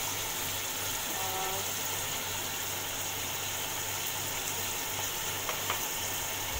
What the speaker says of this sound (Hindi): इसके साथ मसाले भी जाएंगे ताकि एक साथ ये फ्राई हो जाएं